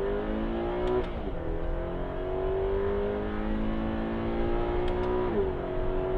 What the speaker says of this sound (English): we're going to run through the gears here for you real quick, and you can kind of hear it, it labors a little bit